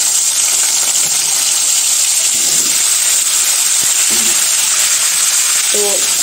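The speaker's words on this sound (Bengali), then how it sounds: "আমাদের ডাল ফুটতেছে।" Dal (lentils) boils in a pot for a winter vegetable khichuri. A steady, close hiss of bubbling water runs throughout, with a few faint clinks and pops.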